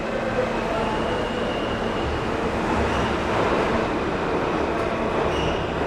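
Continuous loud rumble of a New York R train in a subway station, steady broadband roar with faint wheel hiss throughout, no pauses.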